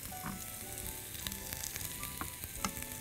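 Onion frying in butter in a heated pot, a steady crackling sizzle with a few sharp pops and faint clinks, close and continuous for about three seconds with no talking.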